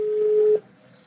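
A steady telephone signal tone holds one pitch for about half a second, then cuts off, leaving faint background noise behind.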